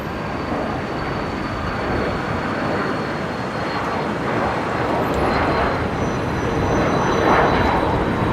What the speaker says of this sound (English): KC-135. I believe the aircraft that was involved in the Pacific Air Show over the weekend